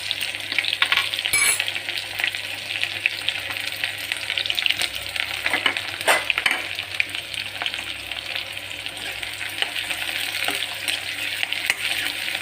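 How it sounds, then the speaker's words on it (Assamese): Ginger garlic paste and chopped onion frying in hot oil on a low gas flame, a steady close sizzle with occasional stirring scrapes, no voices. "তেল এতিয়া যিহেতু গৰম হৈ গৈছে, এতিয়া মই দিম অলপ আদা নহৰু পেষ্ট"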